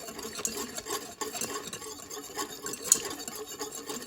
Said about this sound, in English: So now the gravy has started simmering, so I'm just going to mix it again to make sure it's well combined